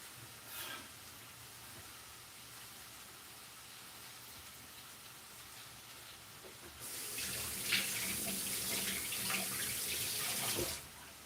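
Tap water runs into a sink while rehydrated mushrooms are rinsed out, starting as a faint trickle and then becoming a louder, steady gush of splashing for several seconds before stopping.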